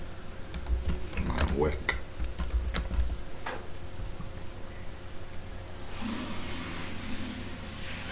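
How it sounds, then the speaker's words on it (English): Someone types a file name on a computer keyboard in a quick burst of close, crisp key clicks. A few scattered taps follow, and a person speaks briefly. "You type in a title."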